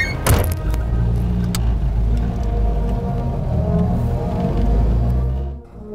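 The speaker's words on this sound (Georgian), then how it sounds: "ეს არის 1943 წელს წარმოებული გაზ M20 პაბედა" A 1943 GAZ M20 Pobeda, a 55-horsepower Soviet car, running close by with a steady low engine rumble and a few sharp mechanical clicks near the start, fading slightly at the end, no voices.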